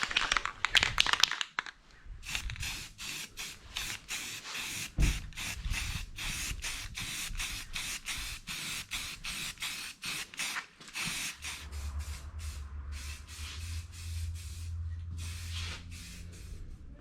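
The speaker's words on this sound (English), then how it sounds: "Primer this guy up and then throw some paint on." Primer sprayed from an aerosol can onto a DIY Toyota Tacoma rear bumper, a close, steady series of short hissing bursts in quick rhythm, with a low rumble underneath toward the end.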